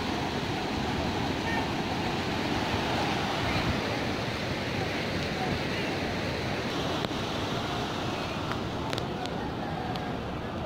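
Steady wash of sea waves on a beach near a river mouth, a continuous broad roar with wind across the microphone, fairly close and constant throughout with no talk.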